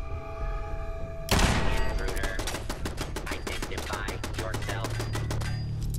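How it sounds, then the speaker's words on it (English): Machine gun turrets open fire in Fallout 4, a loud impact followed by a rapid, steady rattle of automatic gunshots that continues for several seconds. "Machine gun turrets."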